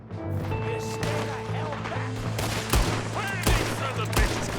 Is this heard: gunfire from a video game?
yes